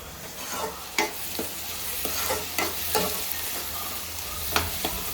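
A spoon stirs a tomato curry with small dried fish and added chili powder as it fries in a pan, giving a steady soft sizzle broken by repeated scraping strokes about once a second.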